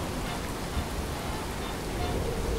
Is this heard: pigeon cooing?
no